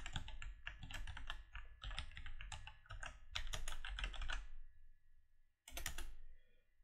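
Rapid computer keyboard typing with quick bursts of key clicks and shortcut presses, close and clear, pausing briefly near the end before a final burst; no talking.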